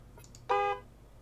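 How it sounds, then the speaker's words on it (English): Truck horn honked in the sci-fi post-apocalyptic RPG Encased: a single short, bright toot of about a third of a second, clear and fairly loud over a quiet background. "What happens if you honk the horn?"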